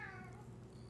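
A pet cat named Watson lets out a single short, quiet meow close by, set against a faint indoor background.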